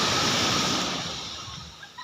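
Strong sea waves surging at a shoreline where boats are hired out: a loud, continuous broadband wash that slowly recedes and thins toward the end, with no talk over it.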